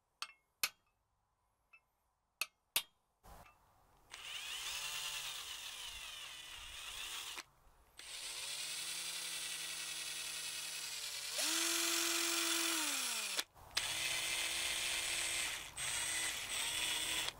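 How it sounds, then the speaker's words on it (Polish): A 12V cordless drill with a titanium-coated 5 mm bit bores into thick sheet metal outdoors, whining in several long runs that change pitch under load, with short clicks and pauses between bursts. "Teraz mamy taką grubą blachę, wiertło Fi5, no i zobaczmy, jak to wierci"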